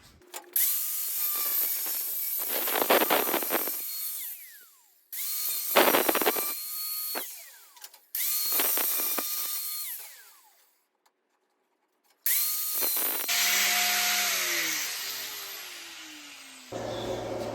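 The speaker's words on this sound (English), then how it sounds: "Now we'll get the angle grinder." Angle grinder shaping a steel froe blade, several long loud bursts of high whining grinding with motor spin-ups and wind-downs, separated by short pauses, close and without talking.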